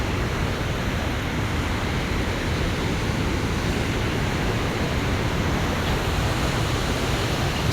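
Water rushes steadily through a pipe feeding a village supply, a continuous broadband roar like surf or a waterfall, loud and unbroken with no voices.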